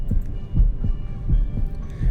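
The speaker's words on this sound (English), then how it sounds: "I can tell she's nervous because I could hear her heartbeat." A heartbeat sound effect in the video game Reverse: 1999 thumps in a steady, deep double-beat rhythm, about four beats across the span, loud and close over a low hum with no voices.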